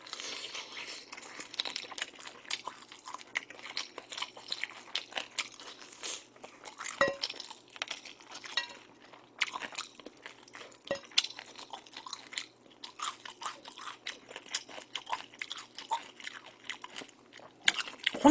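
Crunchy fried chicken coated in a grain syrup glaze is eaten up close, with repeated crisp crunching bites and chewing, plus light clinks of cutlery or dishes and no talking.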